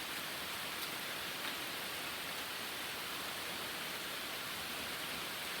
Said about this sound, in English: The rain's making me think of that.